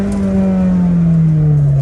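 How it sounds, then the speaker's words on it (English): Honda S2000 engine, being fitted with a turbo, holding a steady loud drone with a falling pitch through a rev-match downshift on an icy drive, continuous and close throughout. "Let's hear that crispy rev match."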